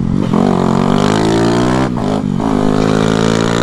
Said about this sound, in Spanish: Y ahora sí, vamos a dar dos vueltas en esta moto